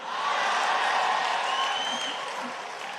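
Loud, steady applause from an audience at a Hindi poetry recital rises quickly and holds for about three seconds, slowly tapering at the end with no voices over it.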